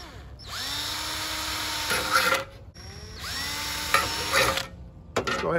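A power drill runs two sustained bursts driving sheet metal screws through 1/8-inch pilot holes, each whining steadily then bogging with grinding, clicking torque as the screw seats, close and fairly loud, with a short final burst.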